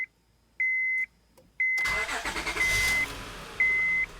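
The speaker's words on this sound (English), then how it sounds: "So I'm gonna start the engine." A few electronic chimes sound, then a starter cranks and a Honda Odyssey minivan engine roars to life and settles into a steady idle, with another chime at the end; its AC compressor clutch won't engage.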